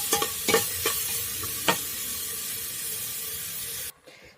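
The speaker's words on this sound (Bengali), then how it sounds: "আদা রসুন পেঁয়াজ ভালো করে লাল করে ভেজে নেব।" Ginger, garlic and onion fry in a pan until browned, with a steady close sizzle and a few sharp scrapes of stirring early on. Near the end the sound drops away abruptly, and no one speaks.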